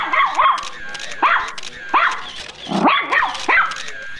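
A man imitates a dog with his voice, giving a string of yips, barks and whimpering howls in short bursts, close and loud.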